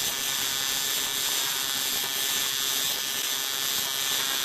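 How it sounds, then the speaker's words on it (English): An aluminum TIG welding arc set slightly too cold hisses and crackles with a steady raspy buzz, loud and continuous with no talking. "that raspy sound is an indication that either you're just a little on the cold side and the arc's wanting to wander, or that you have too long of an arc"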